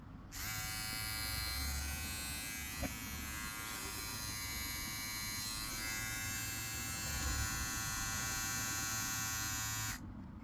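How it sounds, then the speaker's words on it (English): A hair trimmer runs steadily at its single speed, giving a continuous close buzzing hum for about ten seconds with no talking over it. "So now let's make a sound check."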